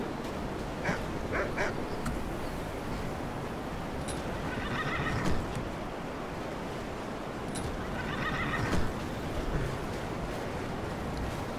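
A horse neighs a few times in the video game Skyrim over a steady, noisy outdoor background, with a soft whinny recurring midway and near the end.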